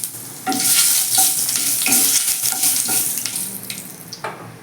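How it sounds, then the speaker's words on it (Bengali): Two spoons of mustard oil tempering bay leaves, whole cumin and a dried red chili for a potato, pointed gourd and prawn curry: a sudden loud sizzle bursts in after a short pause, then crackles on and gradually fades, with no talking. "দু চামচ সর্ষের তেল দিয়ে দিয়েছি এখানে দুটো তেজপাতা ফোড়ন দিয়ে দিচ্ছি হাফ চামচ গোটা জিরে ফোড়ন দিয়ে দিচ্ছি"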